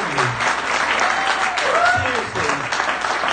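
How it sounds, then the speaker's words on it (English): An audience at a live comedy or music show in a Luton venue breaks into sustained applause, dense clapping filling the room for a few seconds with a voice faintly over it. "Round of applause."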